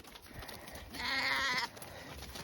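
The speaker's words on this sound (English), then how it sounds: "Sheep, sheep, sheep! Sheep, sheep, sheep!" A sheep on an off-grid homestead gives one drawn-out bleat of about a second in the middle of the clip, fairly close, over quiet outdoor background.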